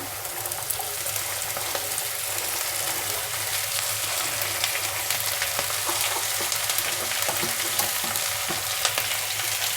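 Thinly sliced cabbage fries in a pan with salt and turmeric, making a loud, dense, continuous crackle and sizzle. Scattered sharp pops and stirring noises run throughout, with no one speaking.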